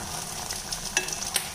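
Spinach greens frying in a pan give a steady, soft sizzle while being stirred, with a few light scrapes and clicks along the way, and no voices.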